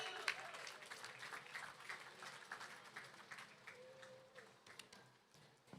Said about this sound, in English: Let's give a round of applause for Keneally.